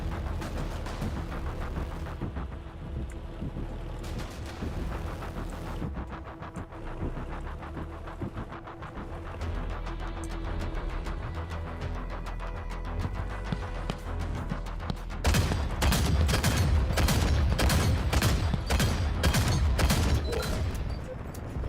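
Sustained heavy gunfire aimed at a player's tank in a tank combat game, a dense continuous barrage that grows louder and harsher toward the end, with rapid cracking shots layered over rumbling mechanical noise.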